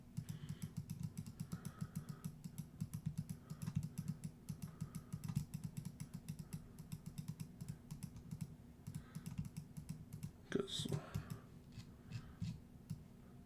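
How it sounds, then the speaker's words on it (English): Rapid mass clicking on a computer during Nuclear War Simulator, a dense steady stream of fast mouse and key clicks lasting the whole stretch, close and fairly quiet, with a brief louder clatter near the end and no talking. "And this is me just like mass clicking."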